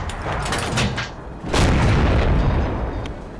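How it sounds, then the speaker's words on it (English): A tank gun in a video game fires, a loud booming blast at T49 with a sharp crack in the middle and a rumbling tail under constant game noise. "Enemy armor is hit."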